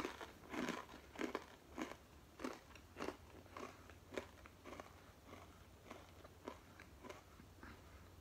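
A pretzel from a bag is bitten and chewed close up, giving a string of about a dozen sharp, dry crunches in an irregular rhythm over a faint background, with no talking.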